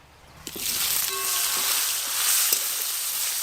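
Chopped onions hit hot oil with tempered spices for a chicken curry, bursting into a loud sizzle that swells and holds steady, with a few light clinks of a utensil.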